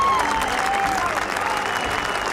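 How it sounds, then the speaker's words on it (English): A large outdoor crowd at the Vietnam Veterans Memorial claps in dense, sustained applause. A faint tone runs beneath the clapping. "Then the crowd started with applause."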